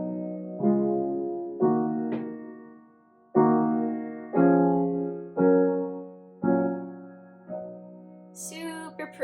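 Soft piano plays the bridge of a worship song using a single-note left hand without octaves, with nine or so sustained chords struck in a slow, even rhythm, each ringing and decaying, close and alone.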